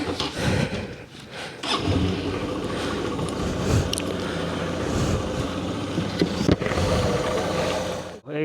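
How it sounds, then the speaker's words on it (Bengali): A Honda SP 125 motorcycle engine idles on a cold morning, a close, steady running rumble with small uneven flutters that cuts off abruptly at the end. "আমার বাইকটা এখন সকালবেলা একটু স্টার্ট করে নিচ্ছি, যেহেতু ঠান্ডা পড়লো।"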